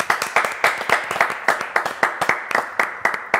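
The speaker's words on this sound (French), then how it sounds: "on va l'applaudir" A small audience claps in a quick even rhythm, close and clear, each hit distinct rather than a blended roar, continuing throughout.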